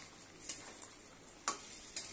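Hot water poured into a pumpkin curry masala in a pan, a soft steady sizzle with a few sharp crackling bursts spaced about a second apart, close and fairly quiet.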